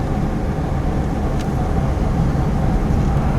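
A vintage Morris car cruises along with a steady, loud engine drone and road rumble heard from inside the cabin, continuous throughout with no talk.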